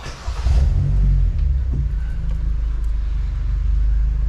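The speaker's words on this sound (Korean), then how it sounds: "자, 시동 걸어 보시고" A first-generation Kia K5 car engine cranks and catches, then settles into a steady, loud, close idle rumble with no talking.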